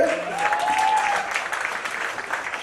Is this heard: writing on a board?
no